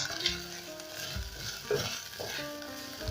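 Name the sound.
beef being stirred and browned, sizzling in a pot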